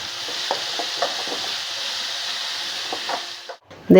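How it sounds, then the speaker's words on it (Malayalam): Cashews, carrot and onions fry in a pan with a steady bright sizzle, broken by soft scraping clicks of stirring, close and alone, ending in a brief louder knock. "കട്ട് ചെയ്ത് മാറ്റിയ കാരറ്റ് അതിൽ കൂടെ അങ്ങ് ഇട്ട് കൊടുത്ത് വീണ്ടും വന്ന് നമുക്ക് ഇളക്കി കൊടുക്കാം"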